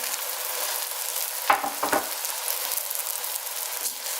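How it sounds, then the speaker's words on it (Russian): Carrots sizzle steadily in a frying pan as a utensil scrapes and stirs them in a couple of quick strokes. The sizzle is close and constant, and no one speaks. "И тушим, обжариваем морковь, помешивая немножечко, минут 5."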